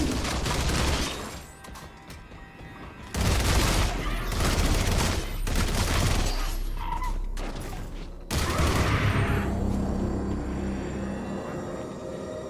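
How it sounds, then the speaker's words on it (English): Guns are fired from the hip in the video game Armatus, in dense rapid bursts of loud, close shots separated by short pauses, with reloading clicks and mechanical sounds between volleys. "So hipfire is entirely possible in this game"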